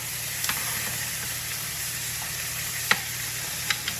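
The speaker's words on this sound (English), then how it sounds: "this keeps that steak basted with butter, keeps it nice and moist" Steady loud sizzle of a tomahawk steak frying in a pan while being basted with butter, garlic and rosemary, with a few faint clicks of spoon against pan and no talk.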